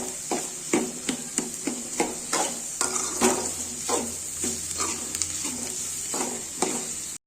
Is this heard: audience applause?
no